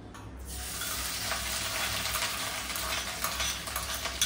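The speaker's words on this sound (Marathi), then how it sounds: "आपल्याला त्याच्यातच खोबरं हे तळून घ्यायचंय" Grated coconut frying in a pan over low heat for coconut kheer, a steady soft sizzle that swells after a brief quiet start, with faint scraping stirs near the end.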